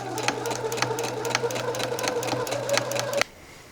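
A sewing machine runs a steady, fast top stitch along a shirt for about three seconds with a rhythmic mechanical clatter, then stops abruptly and leaves only quiet room tone.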